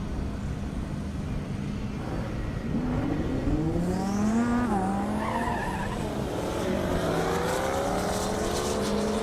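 A Lamborghini Huracan and a Synergy Green Camaro launch side by side in a half-mile airstrip drag race, engines roaring loud and close with rising revs, gear changes and tire squeal, and no talk.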